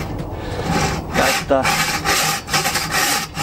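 Rhythmic rasping strokes of a hand saw cutting through wood at night, fairly close, with a brief spoken word partway through.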